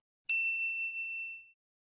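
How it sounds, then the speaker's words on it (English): One bright bell strike rings out cleanly and decays over about a second, alone in silence. "The bell rings."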